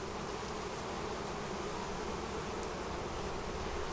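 Honey bees buzz steadily around an open beehive during a colony inspection, a dense, continuous swarm drone with no breaks and no talking.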